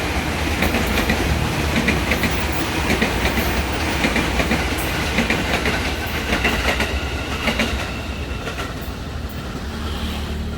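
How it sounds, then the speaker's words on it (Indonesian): Trains rolling along the railway at Bintaro, a loud, steady rumble and clatter of wheels and cars continuing for the whole stretch with no talk. "di sini telah kita saksikan kereta dari dua arah, tadi dari arah kiri, sekarang dari arah kanan."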